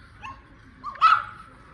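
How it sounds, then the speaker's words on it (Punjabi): A single dog gives a short, sharp bark with a brief yelp before it, heard at moderate distance against a quiet background. "ਇਹਨਾਂ ਨੂੰ ਮੈਗੀ ਭੌਂਕੀ ਜਾਂਦੀ ਆ"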